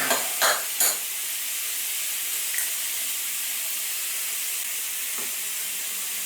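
An egg scrambled and frying in a pan for German sausage and eggs gives off a soft, steady sizzle. A few light clicks come right at the start.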